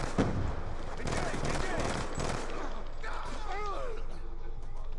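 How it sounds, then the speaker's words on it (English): Gunfire from a sniper and other weapons in a multiplayer shooter video game, dense shots crackling continuously over a busy battle mix while players talk. "I got sniped and cut out."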